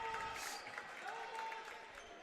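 Soft, distant applause and crowd noise fill a high school basketball gym during a game between Poland and South Range, steady and faint throughout.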